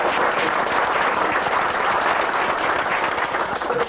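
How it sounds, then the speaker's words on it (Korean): A church congregation claps together in a dense, steady wash of applause that holds at an even, fairly loud level for the full stretch, with no voices rising above it. "그런 사람 박수하라"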